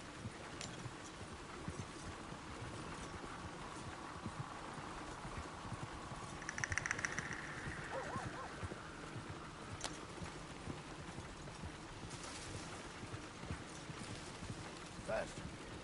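Horse hooves clip-clop at a steady walking pace on a road in the game Red Dead Redemption 2, a soft rhythmic patter beneath ongoing conversation and faint ambient background.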